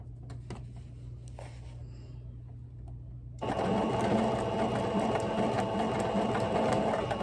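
After a few seconds of near silence with small clicks, a sewing machine starts up and runs steadily and loudly, stitching a straight seam on ruffled tutu socks.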